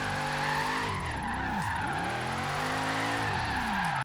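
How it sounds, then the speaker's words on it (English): Car tires skid and squeal steadily through a drifting slide in Forza Horizon 3, loud and close, with the engine droning beneath and the pitch wavering as the slide shifts, with no talk over it. "You can see my car is actually sliding in fourth now."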